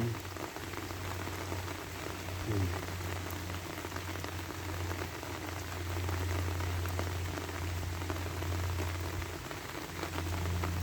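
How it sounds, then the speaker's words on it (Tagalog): Steady rain patters on a surface, a dense constant hiss of drops with a low hum underneath, no voices. "walang katapusang ulan mga lodi"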